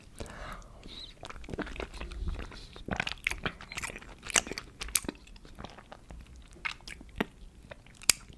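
Kayseri mantı dumplings with plenty of garlic are eaten close to the mic, with wet chewing, bites and small crunches in an irregular rhythm, and soft whispered talk runs through them.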